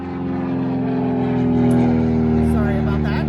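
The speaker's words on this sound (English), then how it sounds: "there's some kind of airplane or helicopter going over right now" An airplane or helicopter passing overhead outdoors gives a steady droning hum that swells slightly and stays continuous throughout, under a person speaking.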